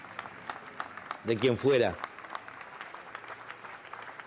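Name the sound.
applause at a funeral farewell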